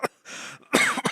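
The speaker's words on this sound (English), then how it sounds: "coughing out blood, or not blood, but water." A person coughing up water after falling prone: a short sharp cough, a raspy throaty exhale, then two more hacking coughs in close succession.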